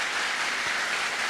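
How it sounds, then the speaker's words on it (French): Audience applause greeting players as they arrive on the podium at a televised school quiz contest, a steady dense wash of clapping heard alone throughout. "Le public a applaudi les joueurs jusqu'à leur arrivée sur le podium"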